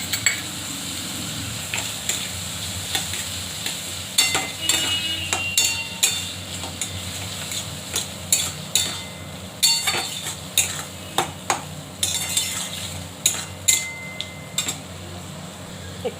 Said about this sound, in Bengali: লাল লাল ভাজা হয়ে গেছে, পোস্ত বাটা হয়ে গেছে, দেবো। পোস্তটা দিয়ে দিচ্ছি।